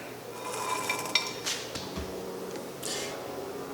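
A lathe turning slowly at about 140 RPM while cutting a cast iron skillet, making light metallic clinks and scraping ticks over a low motor hum, close by and fairly quiet.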